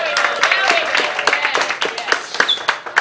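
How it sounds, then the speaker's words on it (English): Scattered clapping from a theatre audience at a quiz-style comedy show, individual sharp claps landing irregularly and fairly close over about three seconds. "round of applause"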